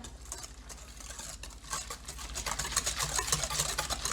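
A spoon stirs Taiwanese jasmine milk tea with sugar and creamer, giving a faint, rapid, steady patter of clinking and swishing against the container, with no talking.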